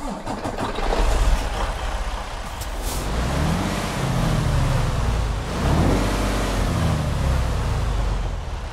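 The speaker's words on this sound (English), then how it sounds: "let's listen to this DD15 engine roar to life" A Western Star 5700XE truck's Detroit DD15 diesel in American Truck Simulator cranks and starts, with an air-brake hiss, then rumbles into a deep, loud idle that swells and settles.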